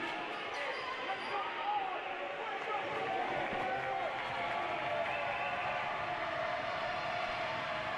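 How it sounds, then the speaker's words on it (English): Basketball crowd in the Gold Dome in Shreveport during a men's college championship game, a steady, moderately loud roar of fans reacting as a player steps to the free throw line, with a continuous dense wash of voices. "Crowd in the Gold Dome letting Price hear it."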